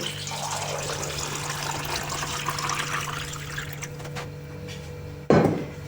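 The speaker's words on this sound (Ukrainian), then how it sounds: "наливаємо холодну воду." Cold water runs steadily into a pot holding jars, with a hollow, filling gurgle, ending in a louder splash or clunk near the end.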